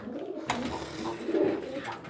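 Homing pigeons coo softly and repeatedly in low, throaty murmurs, close by, with a brief rustle or flutter partway through.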